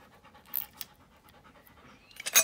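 A dog pants in quick, soft, rhythmic breaths close by in a garage where lawnmower blades are being changed, with a few brighter scuffs and a sharp noisy burst near the end.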